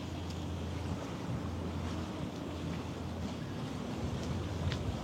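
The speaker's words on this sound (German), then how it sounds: "Ein bisschen viel Wind." Strong coastal wind roars steadily across the microphone by the sea, a dense, continuous rumble with faint surf beneath and no pauses.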